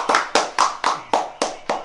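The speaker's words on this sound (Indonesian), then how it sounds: "Tepuk tangan dulu." A small group in an Indonesian boarding house claps hands together at pre-dawn sahur, six sharp, evenly spaced claps in a steady rhythm, close and fairly loud with no talking.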